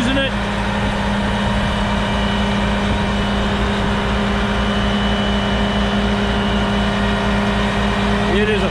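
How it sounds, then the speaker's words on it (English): A 6,000-gallon pumping machine fitted with a new blower runs steadily and loudly at close range, a deep, constant mechanical drone with a low engine rumble throughout and no break in the noise. "It is a pumping machine. We got another new blower on it."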